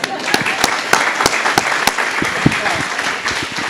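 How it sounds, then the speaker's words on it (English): A round of applause at a university gala, with scattered sharp individual claps standing out over a steady wash of clapping from a crowd for a few seconds. "Let's give him a round of applause there for a second."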